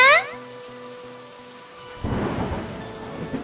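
A soft tonal melody gives way to steady, close rain that hisses and patters loudly for the final stretch.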